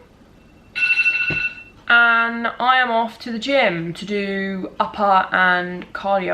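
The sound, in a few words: phone alarm going off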